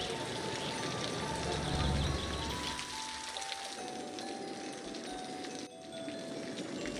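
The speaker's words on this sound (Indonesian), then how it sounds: "Hujan lagi, guys." Rain falling in the city-building game Cities: Skylines, a steady broadband hiss of drops on surfaces with a low rumble swelling early on and faint tonal ambience beneath.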